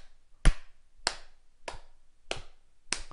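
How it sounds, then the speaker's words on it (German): Five single, sharp hand claps spaced evenly about half a second apart, slow and deliberate, in an otherwise quiet room. "Epic Slow Clap."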